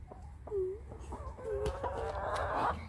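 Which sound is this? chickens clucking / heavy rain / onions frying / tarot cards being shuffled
chickens clucking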